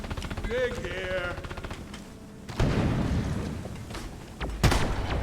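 Shotgun blasts from the Deep Rock Galactic video game, a couple of heavy booming shots amid rumbling gameplay noise, with a faint game voice heard early on.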